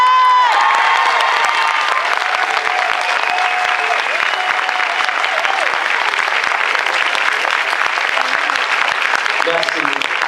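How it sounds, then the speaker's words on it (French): A packed theatre audience applauding at the Lyon premiere of the film Gangsterdam, loud sustained clapping with cheers and shouts mixed in, voices audible under the applause. "je pense qu'on peut l'applaudir bien fort"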